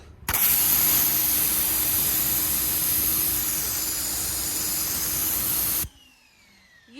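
A pressure washer fitted with a single nozzle sprays in one loud, continuous hiss lasting over five seconds, then cuts off sharply, leaving quiet background.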